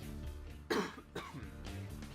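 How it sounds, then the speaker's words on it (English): A person coughs and clears their throat a few times in quick, rough bursts close to the mic, against a steady backdrop of game sound from Armored Core 4. "Cough, cough."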